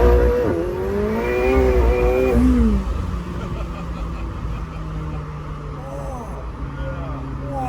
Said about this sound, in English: Yeah, those turbos, they spin up.